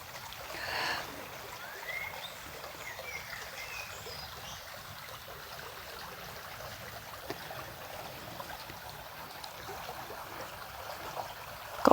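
Shallow stream water flows and trickles steadily nearby, a soft, even wash of sound with a few light splashes.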